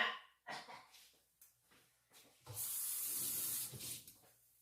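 Tap water runs into a kitchen sink as vegetables are rinsed while cooking shepherd's pie. It starts as a steady, fairly loud gush after a few scattered knocks and clatters, then cuts off near the end.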